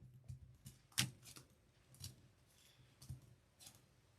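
A tarot deck being cut and handled, giving a few soft papery snaps and riffles spread over several seconds, with one sharper card slap near the start, close and fairly quiet.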